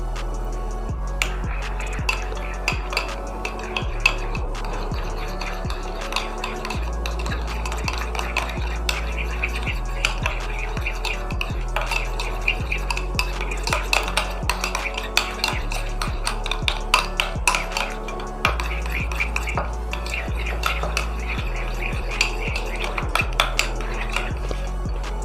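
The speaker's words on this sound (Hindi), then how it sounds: "इसको भी अच्छा सा मिक्स कर लेंगे।" Mayonnaise and cream are stirred together into a white sauce, a spoon tapping and clinking against the bowl in a continuous busy rhythm, close and fairly loud.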